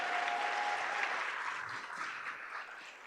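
A crowd applauds steadily at a school district governing board meeting, a dense wash of clapping that gradually thins and fades toward the end, with a faint voice briefly under it.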